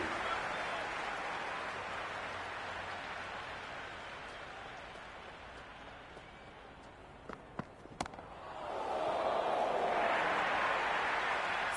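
Crowd applause and cheering in the Cricket 26 video game, a broad steady roar with a few sharp cracks before it swells louder toward the end.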